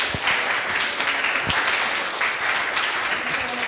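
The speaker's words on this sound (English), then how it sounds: "So please give an applause for Jeremy Bailey." An audience applauds a performer coming on stage at a symposium in Brussels, a steady, moderately loud wash of clapping throughout, cutting off at the end.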